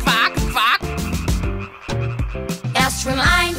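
Frogs croak repeatedly in a bright, busy children's counting song sung in German, the croaks sitting inside the music alongside sung voices.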